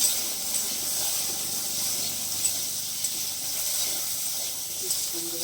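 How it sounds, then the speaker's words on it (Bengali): Taro pieces frying in a pan while a Bengali prawn and taro sour curry is cooked, a steady close sizzle and hiss running alone throughout with a few faint pops. "কচুগুলোকে একটু ভেজে নিচ্ছে"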